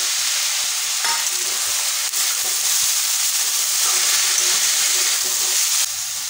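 Chopped potato and grated carrot fry and get stirred in a pan, giving a steady close sizzle with scraping stir strokes now and then throughout.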